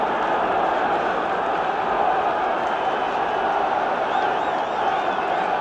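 A 1970s football stadium crowd cheering to lift the Derby side, a broad, steady roar of many voices, fairly distant and sustained without breaks.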